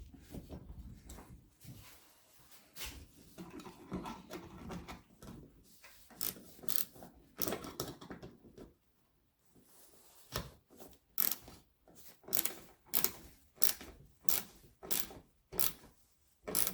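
A ratchet tightens the mounting bolt of a Nilight amber LED ditch light on a 3rd-gen Toyota, sounding as close, repeated clicking bursts that come in quick rhythmic strokes, with sparser clicks earlier and a steady run of sharp ratcheting pulls later.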